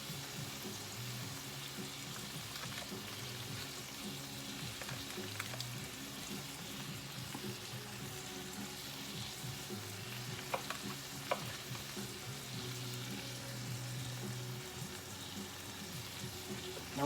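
Butter sizzles on steaks in a pan on a stovetop, a soft continuous frying hiss with a low hum beneath and occasional faint clicks.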